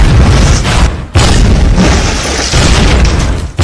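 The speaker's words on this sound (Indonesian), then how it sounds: "tanpa sengaja dia menjatuhkan bom yang siap meledak" A bomb exploding in an action film fight scene, heavy sustained booming rumble that fills the sound, loud and close, with a brief drop midway before another blast surges back.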